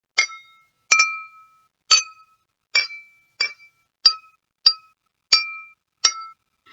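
A spoon taps same-size glasses of water about ten times at an even, unhurried pace. Each tap gives a bright, clean ring that fades quickly, with silence between the strikes.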